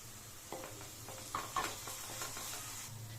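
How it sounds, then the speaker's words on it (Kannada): Ginger garlic paste fries quietly in a pan for an aloo batani sagu, a faint steady sizzle broken by a few stirring scrapes and light clinks. "ಹಾಕ್ಕೊಂಡು ಹಸಿ ವಾಸನೆ ಹೋಗೋವರೆಗೂ ಫ್ರೈ ಮಾಡ್ಕೊಳ್ಳಿ"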